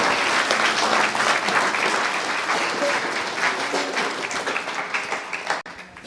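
Audience at a lecture on parenting gives sustained, dense applause that fills most of the clip, with a few stray claps trailing off near the end.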